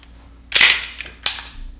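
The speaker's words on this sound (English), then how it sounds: "Super positive mag release." A CZ P10c pistol's magazine release clicks twice as the magazine drops free, two sharp, close metallic snaps less than a second apart with no talk.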